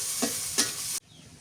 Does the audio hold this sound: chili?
yes